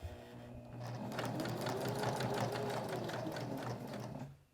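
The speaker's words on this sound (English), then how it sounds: "I'm going to stitch across." A home sewing machine runs steadily, stitching across a fabric lanyard with a D-ring attached, giving a fast even whirring hum with rapid needle ticks that lasts several seconds close up.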